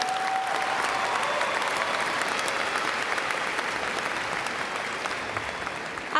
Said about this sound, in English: Seniors, please help me give them a huge round of applause for all their hard work.